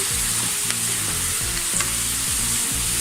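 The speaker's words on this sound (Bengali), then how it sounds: "পেঁয়াজটাকে আমি লাল লাল করে ভেজে নিয়েছি" Onions frying until reddish-brown for beef haleem give a loud, dense, continuous sizzle close up, with a low repeating tonal pattern running underneath throughout.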